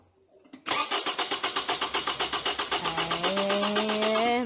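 Car engine cranking during a starter relay test, a fast rhythmic chugging of the starter that catches and settles into a rising running tone, loud and close.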